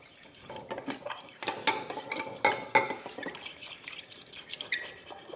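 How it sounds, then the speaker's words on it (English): Three farm-fresh eggs are whisked quickly in a bowl for a peanut butter pie, giving light, rapid clinking and sloshing taps of the whisk against the bowl, close and fairly soft with no talk. "then we'll whisk the 3 eggs real quick"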